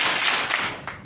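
A small, light hand clap in a rhythmic clapping game, a quick soft slap with a second faint tap near the end.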